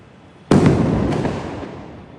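A Diwali firecracker bursts with one sharp, loud bang on a city street, its rumbling echo decaying slowly over the next second and a half, with no talk.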